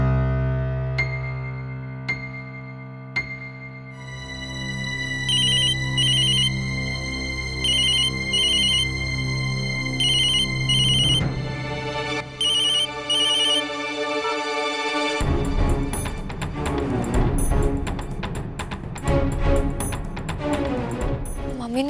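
Electronic ringback tone repeating in short bursts while waiting on a call, with music and background noise continuing underneath and growing busier near the end.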